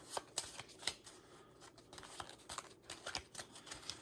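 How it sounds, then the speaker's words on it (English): Playing cards are shuffled at a tabletop board game, with repeated quiet riffles and light taps in an uneven rhythm, close but faint with no talking. "We get to shuffle the cards."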